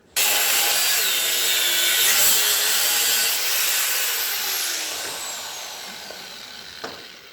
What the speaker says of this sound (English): take my cutting wheel, cut it about right there, get that lip off of there